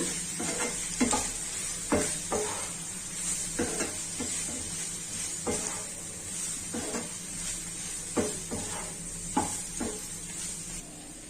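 Fried chicken pieces are tossed into a sizzling fried rice mixture in a pan, with a constant hiss of frying under repeated close scrapes and knocks of the spoon.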